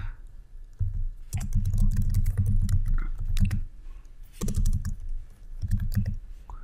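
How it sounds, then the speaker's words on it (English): Typing on a computer keyboard, close clattering bursts of rapid keystrokes separated by short pauses, with no talking. "once I type in the environment name"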